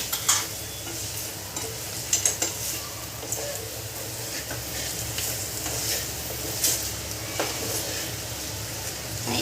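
Fried ingredients get mixed through a sizzling pan, a constant close hiss of frying broken by scraping spatula strokes and a few sharper clinks against the metal, with no talking.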